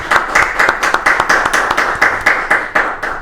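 A small group claps in a loud, close, fairly regular rhythm of crisp hand claps, with little talk over it.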